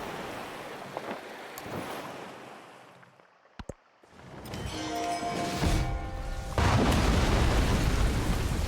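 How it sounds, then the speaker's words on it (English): A supercell thunderstorm event in the Civilization 7 strategy game brings loud rumbling storm noise that thins out, breaks with a couple of sharp cracks, then swells into a broad roaring wash of wind and rain. "Supercell thunderstorm."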